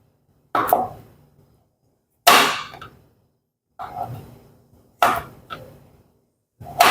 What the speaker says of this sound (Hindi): तो इस तरह से हम जुकनी इस तरह से काट लेंगे।